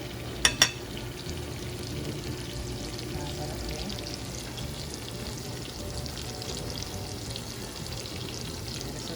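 Salmon fillet cooking in a pan of lemon garlic butter gives a steady, soft sizzle and crackle throughout, with a couple of sharp clinks from a spoon near the start as butter is basted over the fish.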